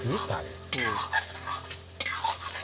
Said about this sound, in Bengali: দেখুন নেড়ে চেড়ে একদম কষে নিয়েছি